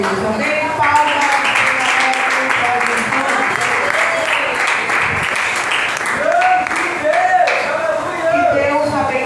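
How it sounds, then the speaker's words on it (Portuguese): Applause in a church service fills the room, with many hands clapping in a dense, sustained patter as voices call out and cheer over it. "Palmas."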